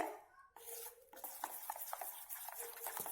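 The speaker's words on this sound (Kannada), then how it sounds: "ಸ್ವಲ್ಪ ನೀರನ್ನು ಹಾಕ್ಕೊಂಡು ಮಿಕ್ಸ್ ಮಾಡ್ಕೊತಾ ಇದ್ದೀನಿ" Potato bajji batter is mixed with a little water in a bowl, producing soft wet squelches and light clinks of a utensil against the container in an uneven rhythm, quiet and close.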